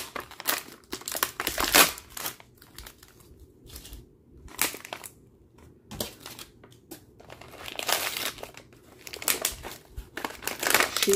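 Sheets of decorative craft paper being crumpled and crinkled by hand during a budget DIY home-decor project, in repeated bursts of crackling with short pauses between, fairly close and clear, with no talking.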